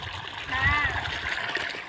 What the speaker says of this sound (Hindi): अभी देखिए पानी पूरा आ गया है दोस्तों, पूरा पानी जाने लगा है